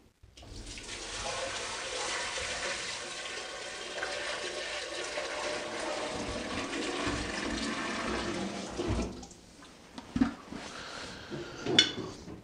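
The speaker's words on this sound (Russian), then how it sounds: "Так, начинаем заливать воду." Nine litres of water poured into the water tank of a Skoroparka sauna stove, a steady rushing splash lasting about nine seconds, then a few short clanks and sloshes as the pouring stops.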